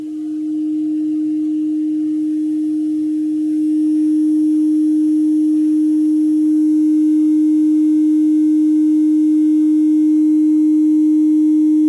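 A single pure steady tone hums on and on, starting soft and stepping up in loudness partway through, alone with no other sounds.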